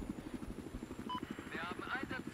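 Rapid, rhythmic rotor thumping of a helicopter in the video game Battlefield 4, steady and fairly close for the whole stretch, with a voice talking over it partway through.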